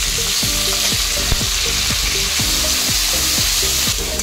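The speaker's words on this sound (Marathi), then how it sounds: "मध्ये मी हे कोळंबी थोडे फ्राय करून घेते" Prawns sizzle steadily in hot oil in a pan, with a dense, continuous frying hiss and a regular pattern of stirring or spatula scrapes roughly every half second. No one talks.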